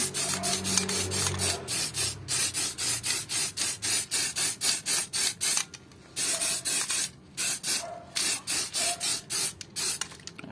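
Repeated short hissing bursts of aerosol spray as Plasti Dip is sprayed onto car rims, a Rota Slipstream 16-inch wheel for a Civic EG hatch, steady rhythmic passes with brief pauses between them, close and fairly loud.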